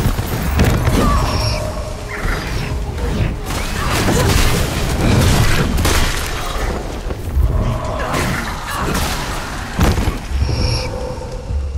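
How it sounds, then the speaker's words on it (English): Barrels explode aboard a cruiser in Flintlock: The Siege of Dawn, loud booming blasts and crashing debris in dense succession with rumbling low end throughout. "Blew those barrels across the cruiser."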